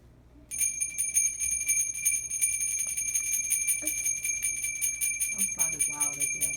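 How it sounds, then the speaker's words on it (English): A bell rings continuously with a rapid, bright trill after a quiet start, steady and fairly close, with a brief voice near the end. "You heard that bell, huh?"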